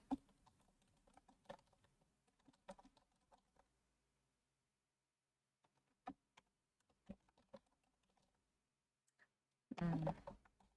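Someone types on a computer keyboard in quick, close bursts of clicking keystrokes, broken by a long silent pause before another flurry of taps.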